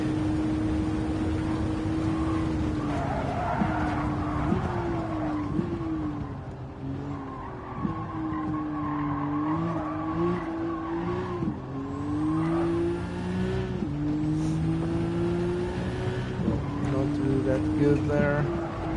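A race car in Gran Turismo 7 drives a lap, its engine whining and climbing through repeated gear changes, with tires squealing in the corners while someone comments over the sound.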